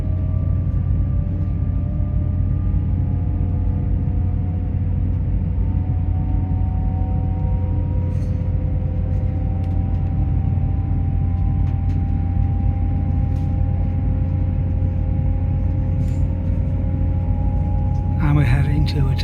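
Passenger train running along the coastal line near Dawlish, heard from inside the carriage as a steady low rumble with faint tonal hums and a brief rattle near the end.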